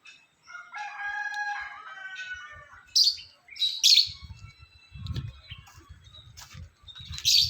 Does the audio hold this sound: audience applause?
no